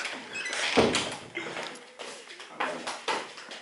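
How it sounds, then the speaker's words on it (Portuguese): Door closing indoors in a room, a few quiet knocks and slides with a sharp thud near the start, followed by softer scraping and clicks, close by and without talk. "Deixa eu fechar a porta."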